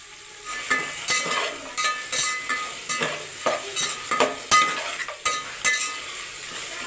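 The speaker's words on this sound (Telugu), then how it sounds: "జీడిపప్పు కూడా వేసుకొని ఒక రెండు నిమిషాలు కలుపుకుందాం" Cashews stirred into tomato masala frying for chicken biryani, soft sizzling under repeated spoon scrapes and metallic clinks against the pan, close and without talking.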